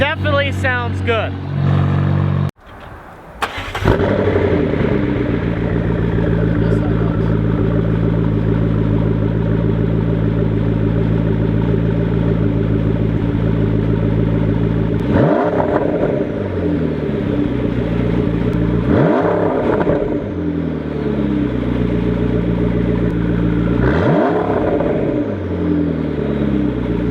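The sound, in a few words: McLaren engine revving with sports exhaust pops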